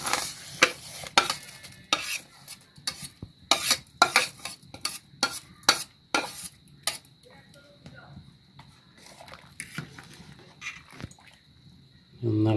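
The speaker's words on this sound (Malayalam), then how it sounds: "ഇളക്കി കൊടുക്കുക" Repeated scraping as one kilo of rice is stirred in a pot of boiling water for veg biryani, quick sharp strokes in an irregular rhythm, fading to quieter scrapes toward the end.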